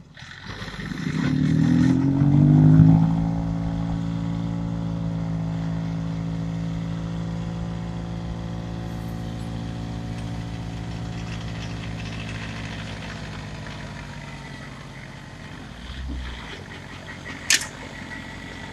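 A tractor driving a Tornado II snow rotor chews into packed, settled snow, its engine surging loudly at first and then droning steadily with a humming, clattering tone, ending with a brief sharp knock.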